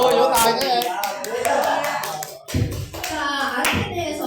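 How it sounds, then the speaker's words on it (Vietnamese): An audience in a Bible-study class claps hands in a lively burst, sharp close claps mixed with voices and children chattering, pausing briefly before clapping resumes. "Vỗ tay cái em."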